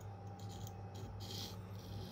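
A Spyderco Endura knife with a K390 steel blade being sharpened, giving a steady, close rasping rub of steel drawn over an abrasive, continuous and even with slight pulses, over a constant hum.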